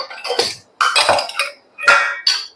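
Bowls, glasses and spoons set into a dishwasher rack, giving several separate bursts of clinking glass and rattling cutlery, close and fairly loud, with short pauses between.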